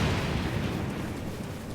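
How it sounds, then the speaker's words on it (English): A thunderstorm in Zelda: Tears of the Kingdom gives a loud, sustained low rumble of thunder from a lightning strike, steady and dense throughout with no speech. "Lightning's very violent today."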